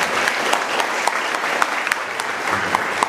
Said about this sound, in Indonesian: Tepuk tangan dong buat Pasek.